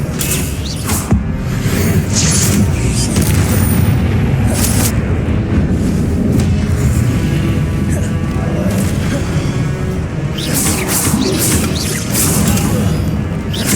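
Confringo spell blasts in the Hogwarts Legacy video game, loud booming impacts and crashing debris layered over a dense, continuous roar of battle noise with sharp bursts near the start and end.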